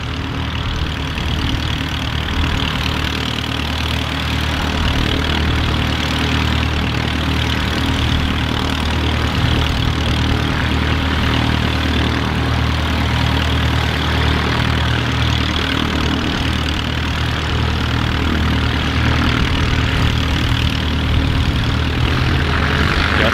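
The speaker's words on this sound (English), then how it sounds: "Couple of aircraft starting up around us now" Several aircraft engines start up and idle on the apron at Manchester City Airport, a steady, loud, low droning rumble with propeller hum that holds constant throughout, no talking over it.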